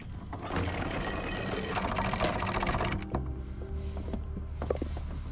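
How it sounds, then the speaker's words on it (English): Boat anchor windlass paying out 3/8 inch chain while anchoring in a calm bay, a loud continuous mechanical rattle and clatter for about three seconds, then stopping, leaving quieter clanks and background noise. "I operate our windlass and deploy the ground tackle."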